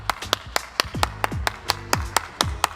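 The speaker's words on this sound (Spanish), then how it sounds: "Aplausos, por favor" Hand claps on a Spanish-language talk show, roughly a dozen sharp, fairly evenly spaced claps over a few seconds, sounding like a small group or a single person clapping rather than a full audience, with no talk over them.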